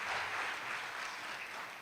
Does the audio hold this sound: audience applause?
yes